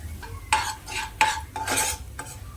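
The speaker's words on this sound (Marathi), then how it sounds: "आता हा कांदा आहे आपल्याला हलकासा ट्रान्सपरंट घालून घ्यायचा आहे" Onion for aloo tikki burger filling stirred in a pan, several distinct scraping clatters of a spoon against the metal at an uneven rhythm, with a light sizzle underneath between strokes.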